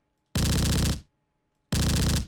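Two heavy, booming single-shot battle cannon shots in the video game Space Engineers, each a loud sustained blast of about two-thirds of a second, separated by a short silent pause.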